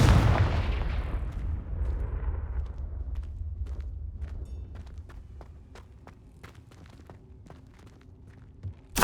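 A Confringo blasting curse goes off in Hogwarts Legacy, a loud booming burst at the start that rumbles away, followed by scattered small impacts and footstep-like clicks and a final sharp hit at the end.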